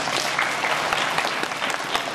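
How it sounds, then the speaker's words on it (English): Audience at an aikido demonstration breaks into steady clapping, a dense continuous patter of many hands lasting a couple of seconds at moderate loudness with no one speaking. "Or clap."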